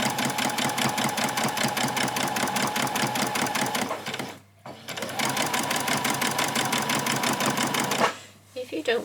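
Sewing a child's dress, a machine whirs loud and close in a long rapid run, stops briefly, runs again, then pauses near the end.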